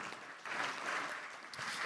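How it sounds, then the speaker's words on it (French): A conference audience applauds the panel speakers at a business event on ticketing and revenue management, a soft, steady patter of clapping that swells after a brief start and carries on for about two seconds with no talking. "Je vous propose de les applaudir bien fort."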